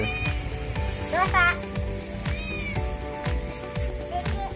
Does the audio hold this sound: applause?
no